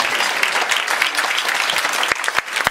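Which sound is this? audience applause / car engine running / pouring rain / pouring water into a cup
audience applause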